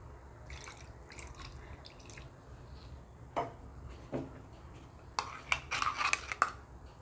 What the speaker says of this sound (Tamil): இந்த மிக்சியை வந்து கொஞ்சமாக கழுவி அதில் தண்ணி ஊற்றிடலாம்